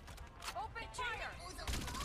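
Gunfire in the online shooter Farlight 84 crackles in short bursts across the clip, mixed with game voice lines and effects at a busy, steady level.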